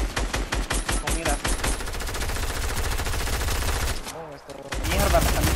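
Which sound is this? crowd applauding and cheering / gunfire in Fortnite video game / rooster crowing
gunfire in Fortnite video game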